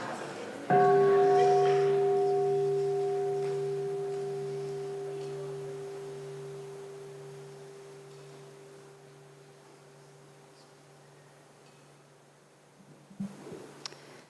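A single meditation bell struck once at a family mindfulness retreat gathering, a clear resonant tone that rings out and decays slowly over about twelve seconds in a quiet hall, with faint rustling near the end.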